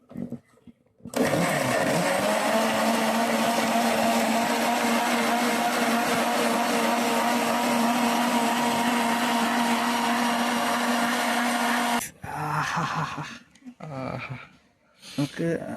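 Fruit whirs in a kitchen mixer for a jungle-style juice, a loud, steady motor drone with a constant hum, running about eleven seconds before stopping abruptly, followed by brief clattering and handling noises.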